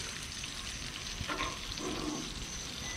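Cajun-style red snapper fries in enough hot grease to float, giving a steady, close, unbroken crackling hiss with a few small pops and no voices.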